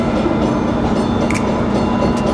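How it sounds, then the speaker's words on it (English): Boston Green Line underground metro train heard from inside, a loud, steady rumbling roar of wheels on track with faint clicks, no voices. "This underground metro that I'm on is actually part of the oldest underground transit system in the entire US"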